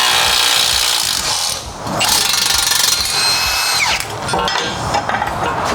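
A loud power tool grinds and whirs close by in bursts, with scraping and rubbing against wood and metal between runs.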